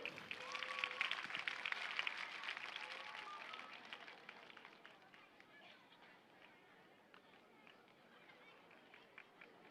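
Audience applause for honoured teachers and school staff at a ceremony, a dense wash of clapping that is loudest over the first few seconds and then thins to scattered claps, with some crowd chatter mixed in.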